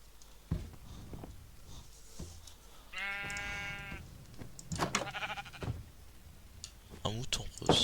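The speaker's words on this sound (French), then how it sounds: "Un mouton rose." A pink sheep in Minecraft bleats in a short synthetic burst midway through, under a French-speaking player's ongoing talk and game clicks and footsteps.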